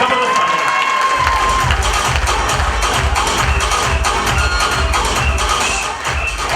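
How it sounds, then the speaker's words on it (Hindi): A large audience at a company event applauds and cheers loudly, with dense clapping, shouts and whoops in a continuous roar, a rhythmic thumping beat underneath. "एक बार जबरदस्त तालियां चाहूंगा दोस्तों, जबरदस्त तालियां।"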